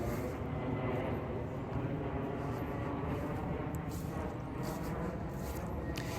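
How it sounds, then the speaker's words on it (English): An airplane passes overhead outdoors as a continuous broad, steady roar lasting throughout at moderate distance, with no talk over it. "I'm just gonna let that plane pass."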